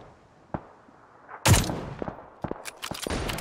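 Gunfire in PUBG around an M249 light machine gun, with a single sharp shot, then a loud nearby blast and a scatter of further cracking shots and taps, close and without speech.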